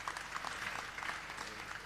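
Steady, dense applause from a live audience at a Gujarati folk comedy stage show, loud and continuous throughout without pause.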